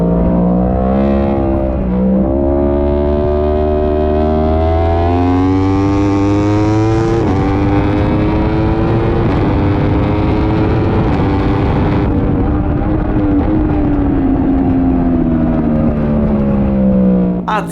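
Race car engines roaring at the start of a race at Misano circuit, a loud, continuous dense engine drone with rising and shifting pitch as cars accelerate together, near and sustained throughout.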